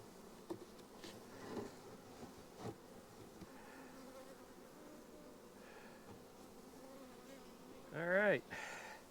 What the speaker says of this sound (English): Just to keep the bees happy.